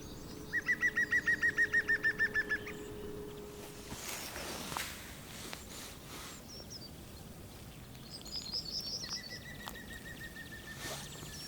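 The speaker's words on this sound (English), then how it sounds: "I can hear a woodpecker." Woodpecker calls in a nature reserve at sunrise: an early rapid run of about a dozen even notes, then a shorter burst later, amid faint outdoor ambience with birdsong and light rustling.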